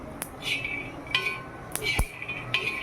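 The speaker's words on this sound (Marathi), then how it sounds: "आपले शेंगदाणे असे व्यवस्थित भाजून घ्यायचे त्याला तांबूस कलर येईल तोपर्यंत" Peanuts are dry-roasted in a pan, making a few sparse metallic clinks and light scrapes as they are turned, close and fairly quiet over a faint background hum.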